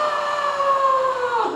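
A human voice imitates a crying baby with one sustained, high, wavering wail that slides downward at the end, loud and close, with nothing else around it.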